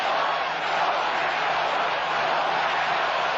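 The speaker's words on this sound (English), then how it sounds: "Crowd has come to life." A packed football stadium crowd at a Chicago Bears at Green Bay Packers game swells into a dense, continuous roar that holds steady and loud throughout.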